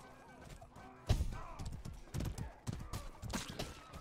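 Horse hooves clip-clopping in the medieval combat video game Mordhau, a run of sharp uneven thuds amid battle clatter, with a brief whinny and a player talking quietly underneath.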